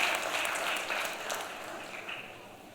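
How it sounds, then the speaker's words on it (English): An audience at a tourism-sector conference panel applauds briefly, a short even wash of clapping that stays steady and slightly fades over a few seconds. "a big round of applause, if we may, please"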